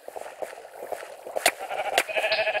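Sheep in a Minecraft minigame bleat several times in quick succession, close and clear, along with some clicking game sounds.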